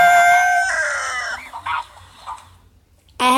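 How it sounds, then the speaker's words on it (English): A rooster crows as a sound effect, one close, loud, drawn-out call that tapers off and falls quiet, then another crow starts abruptly at the end. "Rooster."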